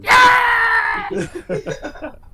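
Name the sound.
Yoda screaming sound clip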